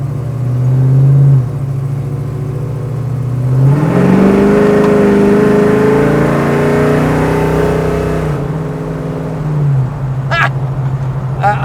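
A 1970 Chevrolet Chevelle's engine rumbles loud and close, rising in pitch as it revs under acceleration, then settling back to a steady drone, with a brief chirp near the end.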